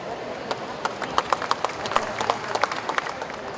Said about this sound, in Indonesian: Kita berikan tepuk tangan Bapak Ibu sekalian.